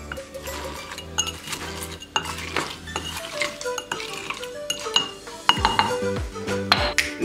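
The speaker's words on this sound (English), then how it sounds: "Then you use your muddler, and we muddle the whole thing." Lime and cane sugar for a passion fruit caipirinha are muddled in a glass, giving repeated glassy clinks and knocks. They come in an irregular rhythm over background music.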